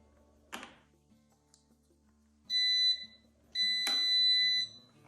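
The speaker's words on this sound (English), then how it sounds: "Sorry for the beeping." A jump starter booster pack gives two loud electronic beeps, each a steady high tone lasting under a second, separated by a short pause, preceded by a brief clunk and faint clicks.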